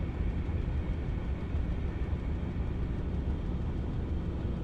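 A train-like Exocraft vehicle from a video game rumbles along in a steady, dense low drone, constant and moderately loud throughout with no voices.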